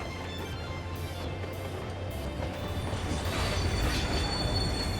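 A train rolls past in Final Fantasy XIV with steady wheel rumble and faint squeal, growing louder toward the end, no voices.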